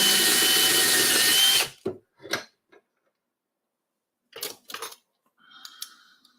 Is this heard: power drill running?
yes